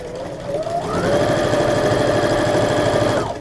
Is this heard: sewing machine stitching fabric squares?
yes